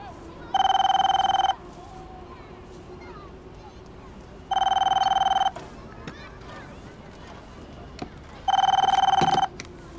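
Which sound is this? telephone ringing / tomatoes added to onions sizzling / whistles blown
telephone ringing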